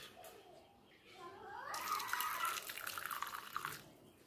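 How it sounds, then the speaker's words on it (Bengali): Mustard seeds being rinsed with running water, a steady splashing pour that swells loudly for about two seconds in the middle, with softer drips and trickles before and after. "সর্ষেটা আমার ধোয়া হয়নি, আমি একটু ধুয়ে নেব।"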